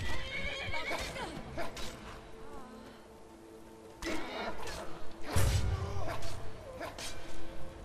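A horse in Skyrim neighs and whinnies, with hoof clip-clops and thuds during combat in the game, while someone speaks German over the action.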